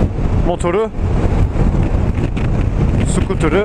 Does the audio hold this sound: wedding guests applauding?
no